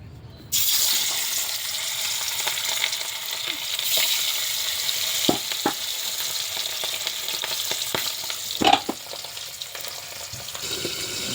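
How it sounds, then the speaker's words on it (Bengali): Boal fish and prawns fry in hot oil in a steel pan, a steady close sizzle with occasional sharp pops and spatters and faint clinks, no voices. "এই যে বোয়াল মাছ এখনও ভাজা চলছে,"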